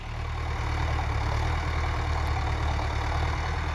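A Mahindra Arjun Novo 605 DI tractor engine idles nearby, a loud, steady low rumble that holds constant without revving.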